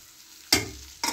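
Sliced tomatoes hit a hot pan of frying spice mix, giving two sharp bursts of sizzling with stirring, close and fairly loud after a quiet moment.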